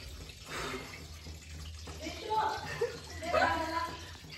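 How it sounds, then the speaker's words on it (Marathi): Water splashes and pours into a wok for cooking Maggi noodles, a soft gurgling stream under a voice and light laughter nearby. "कढईत पाणी घेतो डायरेक्ट."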